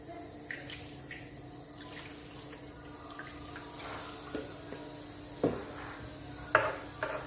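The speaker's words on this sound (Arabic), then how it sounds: "ندير شويه الماء،" Water poured into a pot while preparing couscous with lablabi chickpeas in a home kitchen, a steady faint running-water wash with a few soft clinks and splashes near the end.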